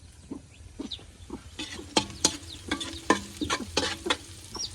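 Oil sizzles steadily in a pan as onion and garlic sauté, while a utensil stirs and scrapes in bursts, with a few faint bird or animal calls in the background.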